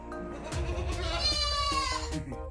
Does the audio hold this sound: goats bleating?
yes